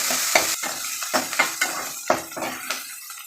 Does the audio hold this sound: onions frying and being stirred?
yes